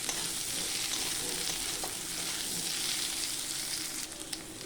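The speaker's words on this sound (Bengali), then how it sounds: "পেঁয়াজটা ভাজতে ভাজতে আলু দিয়ে দেব, যাতে আলুটা একটু ভালো করে ভাজা হয়ে যায়" Onion and potato frying together in a pan give a steady, close sizzling hiss with light stirring that continues throughout and eases slightly near the end; no one speaks.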